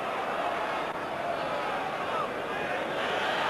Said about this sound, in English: Vinnie Jones was getting a great roar from the crowd